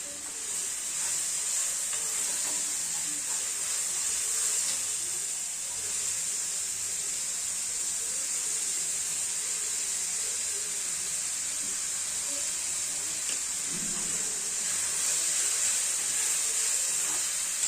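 Onion with ginger, chili and garlic paste sizzling in a pan, a steady bright frying hiss that holds evenly throughout, close and continuous, with faint stirring underneath.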